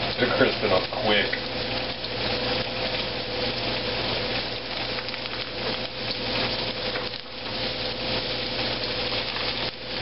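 Small pieces of walleye crisping in hot frying grease, a dense, continuous sizzle heard up close over a constant background hum.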